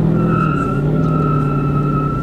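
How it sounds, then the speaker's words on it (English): A Dodge Charger R/T does a burnout at a crowded truck meet, its engine droning loud and steady at high revs with a sustained tire-spin roar throughout. "Who's doing a burnout? This Charger right here."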